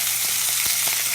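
Pot roast browning in a hot pan, a steady close sizzle with small pops and crackles throughout, no voices.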